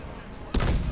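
Gunfire in Call of Duty Advanced Warfare starts abruptly partway through: a loud, close burst of rapid shots that follows a quieter stretch of background game noise.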